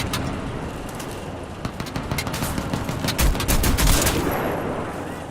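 Sniper rifle shots in the video game Crysis 2 Remastered, sharp loud cracks repeating amid a dense volley of other gunfire over a steady rumbling battle backdrop, the bursts growing heavier near the middle before easing off.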